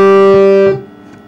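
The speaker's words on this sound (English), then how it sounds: "So whereas a kharjnar harmonium," Kharj-nar harmonium with one bass reed line and one male reed line, a sustained reedy chord held for under a second before a new note sounds and the tone fades out; close and fairly loud, no talking.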